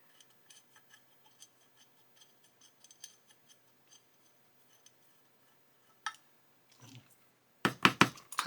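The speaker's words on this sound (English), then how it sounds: "So I've got my tap here, so I'm just going to cut some threads in there just to start the screw off" Hand tap cutting threads into a hole for a screw while building a 1:6 scale Shelby Mustang GT500 model, faint sparse ticks and small clicks, then a few louder metallic taps near the end.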